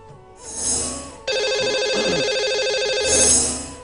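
A telephone rings out on a radio show as a lucky caller is dialed, with a steady electronic ringtone sustained for a couple of seconds between shorter swelling tones, clear and close.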